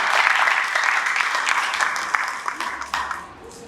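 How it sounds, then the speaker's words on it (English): Audience applause at an African nations quiz finals and pageant event, moderately loud clapping that tapers toward the end, heard through a reverberant hall with some crowd noise. "Can you please clap for them?"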